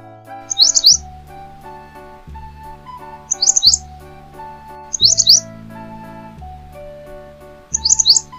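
A bulbul-like songbird chirps in four short, bright bursts at regular intervals over a steady instrumental tune.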